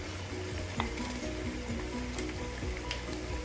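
Saba bananas going into a pot of simmering, reduced beef sauce, with a steady soft sizzle and bubbling under occasional spoon knocks and clinks against the pan.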